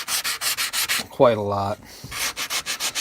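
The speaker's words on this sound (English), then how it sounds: "So these are another form of sanding. They're sanding sponges." Sanding sponges scrubbing a wooden rifle stock for a Lyman Great Plains Rifle, with rhythmic back-and-forth rasping strokes close up, broken in the middle by a short stretch of talk before the steady rubbing resumes.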